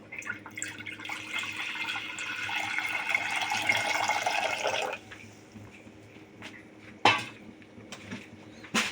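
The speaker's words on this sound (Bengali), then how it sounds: "হাঁড়িতে জল দিয়ে দিলাম।" Water pours steadily into a clay cooking pot for about five seconds, a bright rushing splash, then stops, followed by a sharp clank of the pot and a few soft kitchen knocks.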